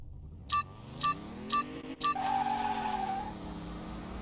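A BMW engine in Car Mechanic Simulator 21 burbles at a low, throbbing idle that swells and settles, following four evenly spaced electronic countdown beeps.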